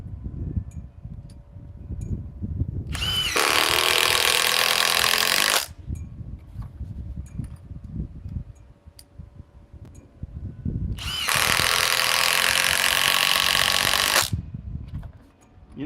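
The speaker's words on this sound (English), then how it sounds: "let's run these 4-inch timber locks." Power driver sinking 4-inch timber lock screws into wood, heard as two long, loud whirring bursts of about three seconds each, separated by quieter handling noise.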